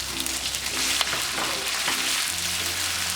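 Ginger garlic paste sizzles in hot oil with green chillies and curry leaves in a pan, a steady, close frying hiss with light stirring scrapes and a low hum beneath.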